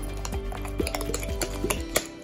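Avocado is mashed by hand for guacamole, with quick, irregular clinks and taps of a utensil against a bowl, close and fairly quiet with no talking.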